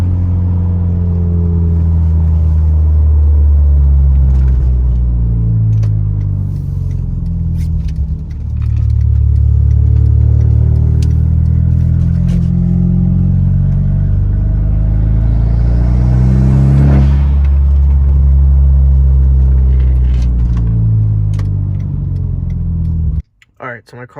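A Hyundai Genesis Coupe drives under boost, its deep engine rumble and rising, falling revs steady and close inside the cabin, with a person talking over it before the sound cuts off abruptly at the end.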